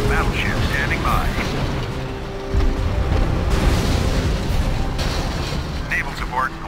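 Offshore battleship artillery booms in Command & Conquer Generals Zero Hour, a steady barrage of heavy low rumbling blasts with a louder burst midway, layered under game voice chatter.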